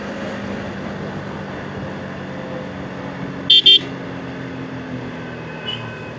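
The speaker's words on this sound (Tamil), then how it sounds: "இங்கே கொஞ்சம் டிராஃபிக் ஜாஸ்தியாக தான் இருக்குது." Steady road and engine noise from a motorbike ride through heavy traffic between Chennai and Periyakulam, broken by a short double car-horn honk midway and a faint toot near the end.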